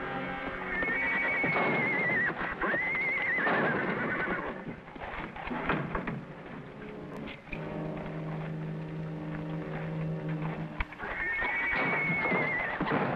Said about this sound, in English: It must be the kid's horse.